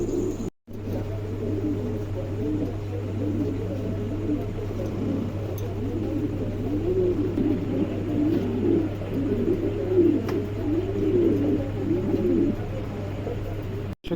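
A pair of caged Lakha pigeons at a market coo repeatedly in soft, throaty rolling phrases over a steady low hum and faint background noise.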